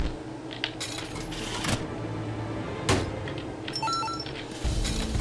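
Bright metallic coin clinks from The Binding of Isaac, several separate sharp jingles spaced across a busy game soundscape, with no talking.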